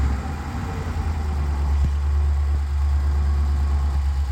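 A 2019 RAM 1500 Rebel pickup fitted with an aFe cold air intake idles steadily, a deep, even low rumble close by, with no talk over it.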